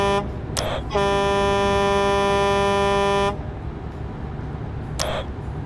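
A loud, sustained truck air horn blares for about two and a half seconds in a trucking video game, with brief shorter honks before and after it over steady background rumble.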